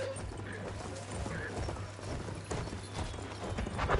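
Horse hooves gallop in a rhythmic, steady clatter inside a cavalry battle video game, moderately loud amid ambient in-game noise and occasional clanks.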